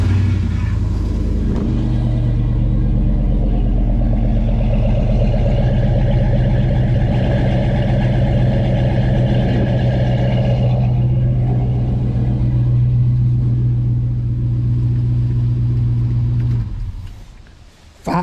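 LS-swapped car with a 5.3 V8 from a 2004 Tahoe, running with a deep steady rumbling idle and a few revs before it shuts off near the end.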